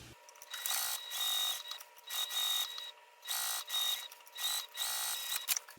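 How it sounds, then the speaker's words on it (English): A sewing machine stitches pockets onto a lining piece for a case, running in short whirring bursts separated by brief pauses, close and fairly loud with no talk. "So we'll do a U-shaped stitch to attach these pockets to the lining piece."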